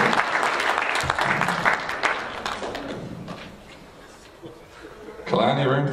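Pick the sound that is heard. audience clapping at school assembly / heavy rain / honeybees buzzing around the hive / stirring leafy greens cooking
audience clapping at school assembly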